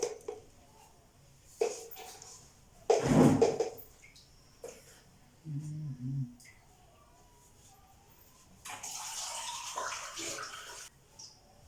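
Water is poured and splashes in a home kitchen while New Year sweets are made, sloshing in short bursts with a longer hissing pour near the end, heard under nearby talk and clatter.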